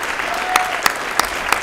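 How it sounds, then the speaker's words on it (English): Dense applause in a room at a Rand Paul political event in Minnesota for the state chairwoman, an even roar of many clapping hands with a few sharper, louder claps standing out near the listener. "Big round of applause for Allie."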